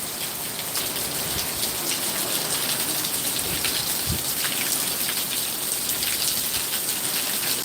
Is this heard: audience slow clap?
no